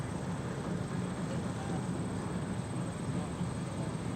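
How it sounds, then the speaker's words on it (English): An AT-6 trainer airplane flying at the Westmoreland County Airshow: a steady, faint, distant engine drone with a low rumble, continuous and even throughout. "from the right, here's Kevin Russo, the AT-6"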